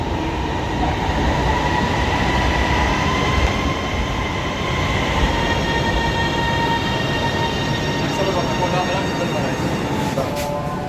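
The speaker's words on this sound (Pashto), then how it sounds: "بره نه ریل راغی ځکه دا شور شروع کړو" An Orange Line metro train arrives with a loud, steady rumble and roar of wheels on rail that fills the whole stretch without letting up, and no voices come through.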